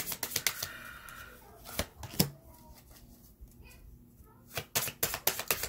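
Tarot cards being handled and drawn from a deck, with bursts of shuffling and flicking card sounds at the start and end around a quieter middle stretch.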